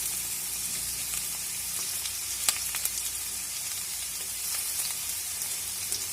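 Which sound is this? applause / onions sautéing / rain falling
onions sautéing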